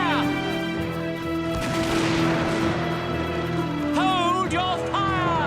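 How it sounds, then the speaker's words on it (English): Musket volley in an animated Revolutionary War show about the first shots at Lexington, a loud crackling burst amid shouting voices, with men yelling commands over sustained gunfire. "Stop! Stop firing! Cease fire!"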